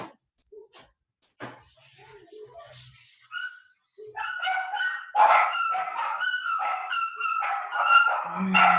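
A pet dog barks, yips and whimpers indoors in short excited bursts that grow louder and denser toward the end, with a few brief quiet gaps in between.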